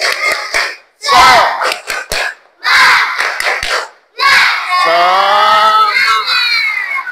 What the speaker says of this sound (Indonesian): ayo sama-sama kita dulu tepuk semangat supaya semangat kita belajar